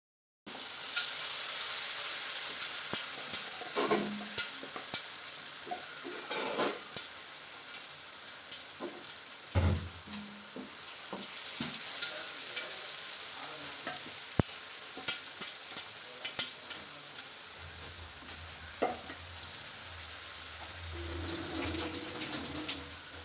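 Munthiri kothu, a crispy Kanniyakumari-Kerala snack, fries in hot oil with a steady sizzle, interrupted by scattered clinks and scrapes of a spoon stirring and turning the pieces in the pan.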